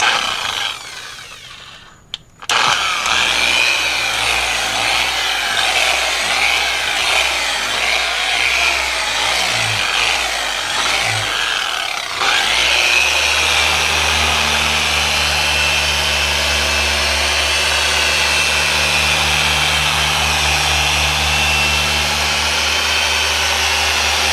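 A power sander with a 1000 grit pad grinds away oxidation on a boat hull, a loud close whirring drone that starts after a brief pause and steadies, its pitch shifting as the pad presses against the surface.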